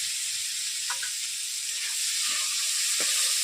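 Green beans hit hot oil in a pan, a steady loud sizzle and hiss of frying with faint stirring clinks, no talking.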